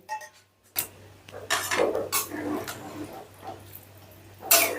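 Water being stirred into rice and potatoes in a cooking pot, with scraping and clinking of a utensil against the pot in uneven bursts, close and moderately loud.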